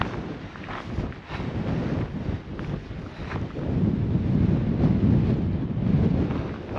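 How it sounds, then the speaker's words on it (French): Cold, gusty wind on an Icelandic peninsula roars and buffets the microphone outdoors. It swells louder in the second half, with no voices. "il y a un vent dehors, donc dès qu'on sort on est congelé direct"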